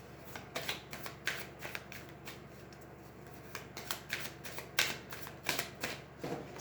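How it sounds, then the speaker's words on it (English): A tarot card deck is shuffled close by, with repeated quick riffling bursts of papery flutter and soft taps coming in irregular clusters across the stretch, fairly quiet and with no voices. "Let's pull a couple cards, or 1 card, or whatever the deck wants to give me, really,"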